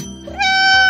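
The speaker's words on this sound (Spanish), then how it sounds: "¡Oh! ¡Ahí está mi precioso gatito!" A cat gives one drawn-out, clear meow that swells and holds to the end, close and fairly loud with no voices over it.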